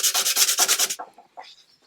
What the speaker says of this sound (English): This is probably a bit more sanding that I need to do,